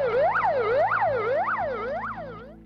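A Russian ambulance siren wails in a fast rising and falling sweep, about four cycles, loud and close over a low engine hum, no voices.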